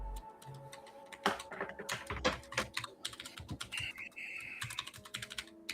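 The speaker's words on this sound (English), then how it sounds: "Get the mechanical keyboard going. Click, click, click, click, click, click." Keys clack on a mechanical keyboard in quick, irregular bursts of close, crisp clicks, heard alone without speech.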